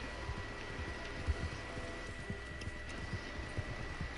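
Horse hooves in a Red Dead game clop steadily in a soft, continuous rhythm under a faint background hum, with no one speaking.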